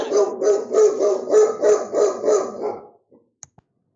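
A dog barks in a rapid run of about a dozen loud, close barks lasting nearly three seconds, then falls quiet apart from a couple of faint clicks.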